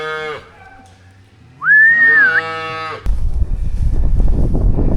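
Cattle in a pasture give a loud, close moo that rises in pitch and holds, followed by a long steady moo, then rustling and thumping noise with no talk.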